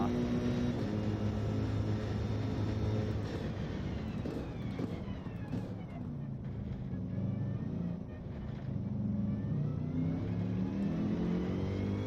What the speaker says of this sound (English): I can just tell by the way the car picks up.